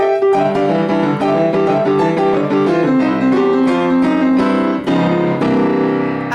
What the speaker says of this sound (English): that's a classic Boogie Woogie ending.